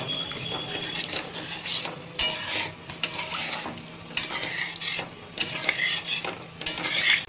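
A spoon stirs boiled potato into masala in a hot frying pan for an egg and cauliflower curry, giving a steady sizzle broken by repeated scraping and clanking strokes, close up and with no talking.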